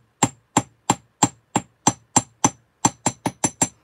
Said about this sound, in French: Et évidemment, quand on tape, ça bouge le tout.